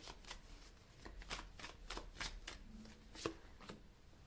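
Tarot cards are shuffled in a rapid series of soft riffling snaps, close but quiet, with a card drawn near the end and no talk.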